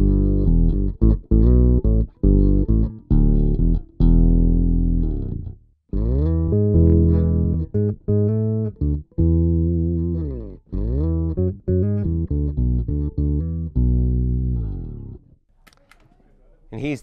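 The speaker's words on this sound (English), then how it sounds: "So whatever note you've just hit, it'll add one octave below it." Bass guitar through an MXR sub-octave pedal, notes with a thick added low octave underneath, played in short phrases and slides, close and fairly loud with brief pauses between.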